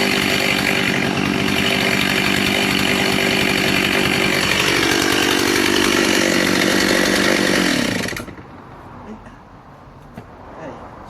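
A vintage Stihl 038 61cc chainsaw cuts through timber, a loud close buzzing rip that deepens under load for about eight seconds, then drops abruptly to quiet with faint handling noises.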